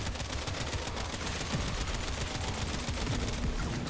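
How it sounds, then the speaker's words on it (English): A rapid-fire gun shooting in Warframe gives a continuous fast stream of crackling shots, dense and steady throughout, with low thumps mixed in amid busy game noise. "I'm shooting when it's shooting"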